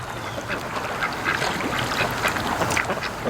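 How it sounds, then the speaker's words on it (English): Ducks quack repeatedly near a boat on open water, a cluster of moderately close calls over steady wind and ambient noise. "Well, the duckies are coming over."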